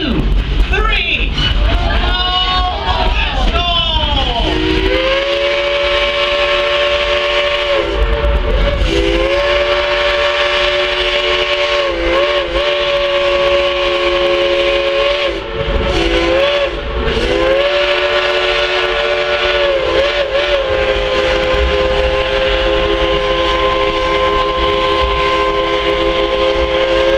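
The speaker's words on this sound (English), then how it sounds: "let's sound the motor whistle" Steam locomotive whistle on a Dollywood excursion train, a long sustained tonal blast that repeats with brief breaks over continuous rumbling train noise and crowd chatter, loud and close.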